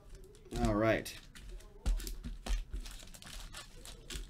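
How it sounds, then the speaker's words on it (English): Packs of 2016 Upper Deck Marvel Masterpieces trading cards are shuffled in crinkly foil wrappers, giving bursts of rustling and crackling, loudest near the start, with a voice talking over parts of it. "That's shuffled enough, right?"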